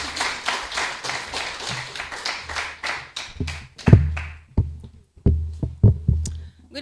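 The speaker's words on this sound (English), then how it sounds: "A round of applause, please, ladies and gentlemen." An audience at a live crime discussion event claps, a fairly close burst of applause that thins out into scattered individual claps and thumps.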